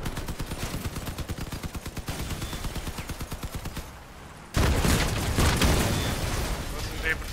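Rapid vehicle-mounted gunfire in the Crossout video game, bursts of repeated shots for several seconds, then heavier louder firing and blasts mixed with game noise.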